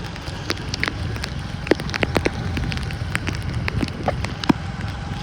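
Steady patter of rain with scattered sharper drops hitting a surface nearby, a constant wash of noise throughout.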